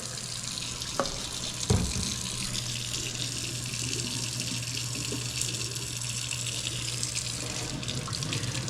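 Hot water runs from a kitchen tap into a sink before loading a dishwasher, a steady close hiss and splash with a couple of soft knocks near the start, no talking.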